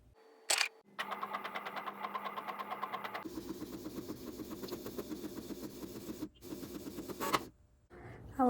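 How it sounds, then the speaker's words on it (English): A home printer that had sat broken for about two years runs close by, giving a rapid mechanical chatter and then a steady whirring feed that pauses briefly before the page finishes. "It's finally printing."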